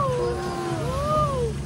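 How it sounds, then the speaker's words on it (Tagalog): A cat meows in a drawn-out, wavering cry that rises and falls, fairly faint over steady background noise outdoors on a city tour in Iloilo. "May pusa ata po."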